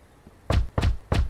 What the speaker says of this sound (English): Knock. Yeah, I should knock.